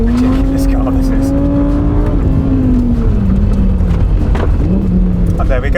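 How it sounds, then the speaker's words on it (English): A Lamborghini Huracan Sterrato is driven hard in a quarry, its loud engine droning and shifting pitch up close while tires scrabble and skid on loose ground, with someone talking over it. "And there we go, Lamborghini Huracan Sterrato in a Quarry."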